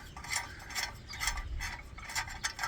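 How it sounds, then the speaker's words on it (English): Ratcheting 13 mm socket wrench loosening bolts on a Bobcat CT4050 compact tractor cover, a close rapid clicking of the pawl in repeated short strokes with faint metallic handling between them. "Now I'm going to take these bolts off of this cover."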